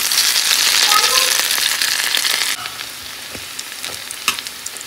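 Boras, fritters frying in hot oil, crackling and hissing loudly for about two and a half seconds before dropping to a quieter sizzle with scattered pops and clicks.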